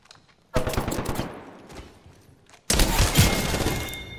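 Apex Legends gunfire in two heavy bursts, a rapid automatic volley that tails off, then after a short gap a second louder stretch of sustained shooting close to the listener, with no talk over it.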